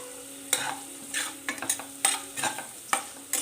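Green chilli, garlic, ginger and onion frying in a pan: a low sizzle runs beneath sharp, irregular scrapes and clinks of a spatula stirring against the metal, heard up close.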